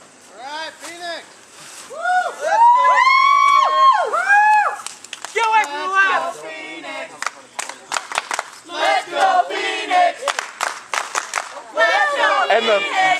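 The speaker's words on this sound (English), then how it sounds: "the crowd finally being loud" A wrestling crowd at an independent show yells and chants, with whoops and cheers that swell and fade. Individual voices shout near the microphone.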